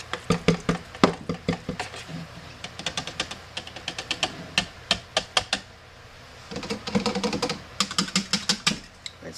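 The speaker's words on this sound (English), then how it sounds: "It's my whisk pump" A whisk pump used while mixing a honeysuckle fragrance gives off quick, sharp clicking strokes in rhythmic bursts, with a short pause midway before the pumping resumes.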